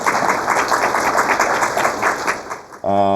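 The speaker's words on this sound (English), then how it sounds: "give them a round of applause if you don't mind" An audience in a conference room at a tech event claps steadily for nearly three seconds, a dense, even applause that ends abruptly, after which a loud tonal sound sets in.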